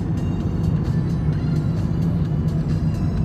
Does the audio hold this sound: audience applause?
no